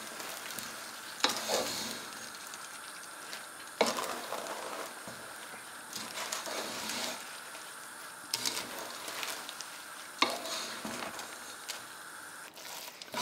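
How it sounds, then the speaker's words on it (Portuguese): Eggs being stirred into sizzling bacalhau à Brás with straw potatoes in a frying pan, a steady close crackle broken by repeated scraping, squishing stirs of a utensil at roughly two-to-three-second intervals, with no talking. "Coloco o ovo todo seguido, e depois mexer sem parar."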